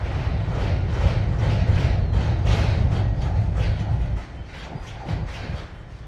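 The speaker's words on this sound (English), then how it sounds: "Listen to that bell" A locomotive bell clangs in a steady repeated rhythm over the deep, continuous rumble of an idling diesel train at Durand as it releases its brakes and prepares to move forward.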